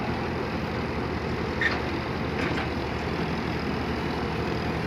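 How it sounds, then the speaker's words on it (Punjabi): An Eicher 551 tractor engine runs steadily at close range, a constant low rumbling drone with no voices over it. "ਮੈਂ ਕਹਿੰਦਾ ਟਰੈਕਟਰ ਦੀ ਆਵਾਜ਼ ਆ"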